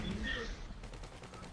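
Rapid gunfire during a GTA Online heist, The Doomsday Scenario, a dense continuous rattle of shots at moderate loudness with a muffled quality, mixed with background game noise.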